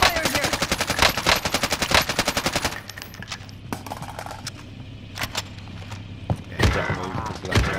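Rapid machine gun bursts in a multiplayer shooter video game, a loud fast rattle for a few seconds, then scattered single shots and quieter clatter further off.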